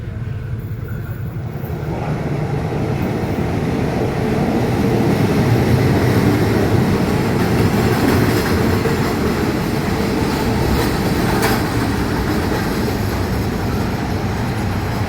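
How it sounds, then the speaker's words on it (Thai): A train rumbles steadily close by as it pulls into the platform at Uthumphon Phisai station in Thailand, its broad mechanical roar with faint rail clatter and a brief metallic squeal rising midway, no voices. "รถกำลังมาเทียบทันชานชรานะครับ"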